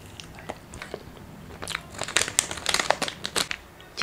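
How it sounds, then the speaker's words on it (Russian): Korean jelly candies being unwrapped and bitten, crisp wrapper crinkles and crunches building into a dense run of close, loud crackling and chewing bursts, with no talk. "Теперь мы пробуем эти желейки."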